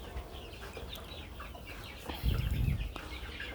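Chickens cluck and murmur in a noisy background, with a brief flurry of louder fowl sounds partway through.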